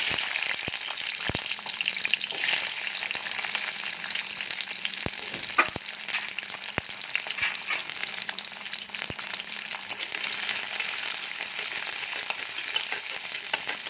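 Small onions sizzling and frying in a hot pan as the base for a mutton curry, a steady crackling hiss with occasional stirring taps, close and continuous with no talking.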